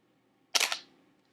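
A single camera shutter click fires while photographing moving river water, a crisp mechanical snap with a brief second clack and short decay, heard alone against near silence.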